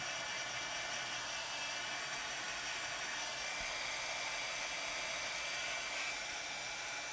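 A heat tool or dryer blows on a craft piece, a steady, unbroken airy hiss and hum running throughout with no talk.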